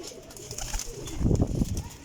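Pigeons coo softly nearby, and a deeper throaty coo swells near the end of the short stretch.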